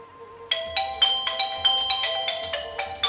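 A phone ringtone plays a bright, repeating electronic melody of quick pulsing notes, close and steady with no voices over it.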